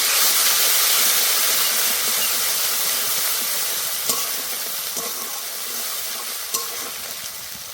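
Crushed garlic and green chili frying with bottle gourd and prawns in a pan make a steady, close sizzle and hiss that eases slightly over time, with a few light clinks of a spatula.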